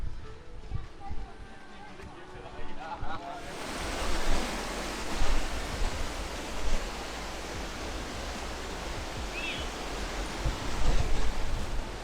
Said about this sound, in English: I do believe this is where we're headed, up this waterfall.